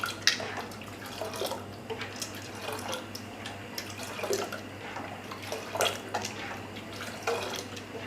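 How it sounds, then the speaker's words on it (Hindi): Kashmiri pink tea with cold water added is whisked in a pot on the stove, giving a steady wet sloshing and splashing with irregular liquid clatters, fairly quiet and without talk. "इसको इस तरह से फेंटते हुए तकरीबन 8-10 मिनट पकाऊंगी"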